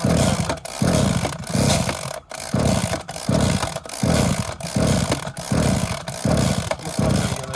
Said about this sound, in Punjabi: ਪੰਪ ਦੇਖਦੇ ਆ ਯਾਰ ਸਟਾਰਟ ਕਰਕੇ ਹੁੰਦਾ ਕਿ ਨਹੀਂ ਪੰਪ ਆ ਵੀ ਯਾਰ ਸਟਾਰਟ ਹੀ ਨਹੀਂ ਹੁੰਦਾ